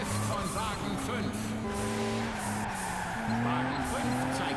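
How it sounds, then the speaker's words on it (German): A race car drifts in the racing game Juiced 2, its engine droning steadily while tires squeal in sustained tonal streaks. Commentary-like speech runs over it throughout. "Wahnsinnsdrift von Wagen 5"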